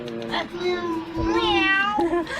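A person imitates a cat meowing with a couple of drawn-out, pitch-gliding mews, close and clear, the second one longer and rising before falling away.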